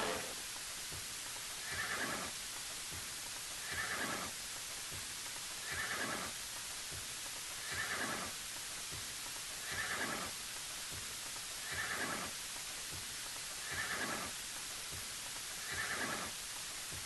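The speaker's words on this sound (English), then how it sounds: "Hitch up the horses." Horses whinny in a video game (Might and Magic VI) in regular bursts about every two seconds, eight calls in a row over a steady hiss of background noise.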